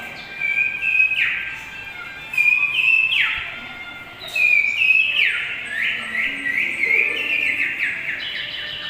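Bright, clear human-whistled imitation of bird song in short repeated bursts with brief pauses, fairly close and prominent over a quiet background.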